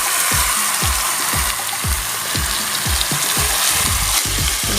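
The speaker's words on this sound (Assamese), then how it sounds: "ভাজিছোঁ" Onions and chicken frying in a pan, a loud, close, continuous sizzle with rhythmic low thumps of stirring or tossing repeating about twice a second throughout, without talk.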